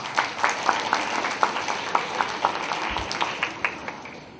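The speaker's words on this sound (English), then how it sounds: "Give it a big round of applause." An audience claps in a steady, even rhythm, with individual claps sounding fairly distinct rather than a dense roar, suggesting a modest crowd at an interview-preparation talk.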